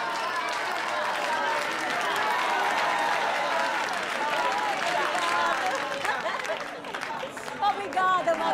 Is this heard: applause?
yes